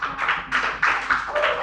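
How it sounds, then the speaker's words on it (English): A small classroom group applauds a student, a brief patter of claps with uneven bursts over less than two seconds, fairly close and without speech. "Another round of applause for her, please."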